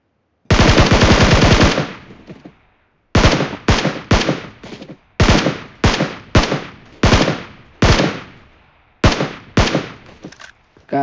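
Gunfire from a Karl rifle in the mobile game PUBG Mobile: one long sustained automatic burst, then a series of shorter rapid bursts separated by brief pauses, loud and close with no talking.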